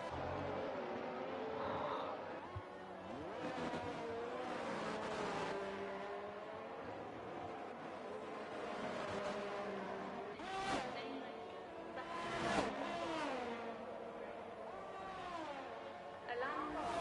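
Formula 1 race cars in a racing video game at the Brazil circuit, engine whine rising and falling in pitch as cars accelerate and shift, fairly quiet beneath continuous commentary.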